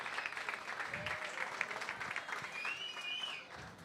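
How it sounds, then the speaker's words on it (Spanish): Faint applause from an audience at a Cali entrepreneurship meetup welcomes a speaker, soft and distant clapping with a low murmur and a brief whistle-like tone near the end. "quiero que recibamos con un fuerte aplauso a Andrei"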